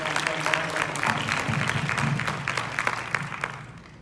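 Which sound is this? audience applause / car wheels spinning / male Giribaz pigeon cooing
audience applause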